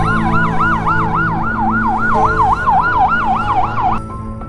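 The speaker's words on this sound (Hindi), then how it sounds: "ये बोलते ही एम्बुलेंस की आवाज आने लग जाती है, लगता है इनका एम्बुलेंस आ चुका है।" A wailing ambulance siren in a mobile action game sweeps up and down in a fast repeating cycle, loud and close, over a low engine rumble before cutting off near the end.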